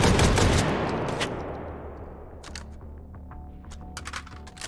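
An AA-12 automatic shotgun in the VR shooter H3VR fires a loud close burst at the start that rings out into a long fading tail, followed by sharp mechanical clicks and clacks of handling the weapon, with no voices.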